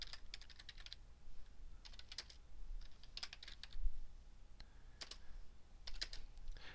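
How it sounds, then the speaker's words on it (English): Quiet clicking of a computer keyboard during spreadsheet work, with short bursts of keystrokes separated by pauses and one soft thump partway through. "let me type"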